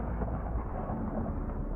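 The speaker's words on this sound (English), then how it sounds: "make some thunder strikes" Thunder strike in the Minecraft modpack GregTech New Horizons, a low rumbling roll lasting under two seconds with no talk over it.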